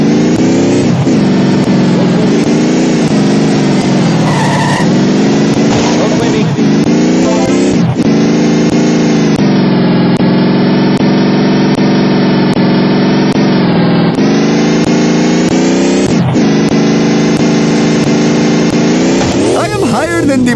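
A car engine hums and revs under The Simpsons Hit and Run driving, its pitch rising and falling as the car speeds up and slows down, loud and continuous, with character voices talking over it.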